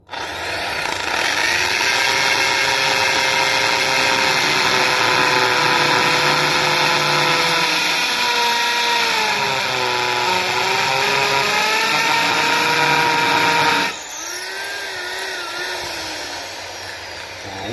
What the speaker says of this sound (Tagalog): gumagana lahat ng ating mga features ng ating Inco impact drill